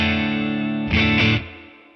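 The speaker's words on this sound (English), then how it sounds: "I'm gonna add the reverb coming from the Imperial." An electric guitar, an Icon Distressed HSS, played through a worship pedalboard with reverb from an Imperial pedal: a sustained chord, a brief louder strum, then a reverb tail fading away alone.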